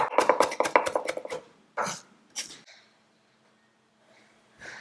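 A knife minces fresh ginger on a cutting board, giving a quick run of close, sharp chops followed by a few scattered cuts and brief pauses.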